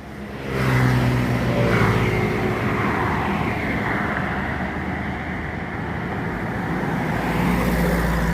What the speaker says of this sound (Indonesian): Ada satu unit bus